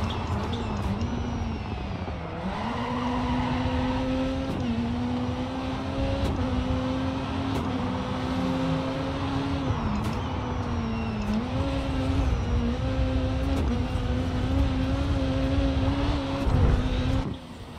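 Rally car engine from the video game Dirt 4 during a rallycross race, loud and continuous with droning revs that rise and dip through gear changes and corners, no talking.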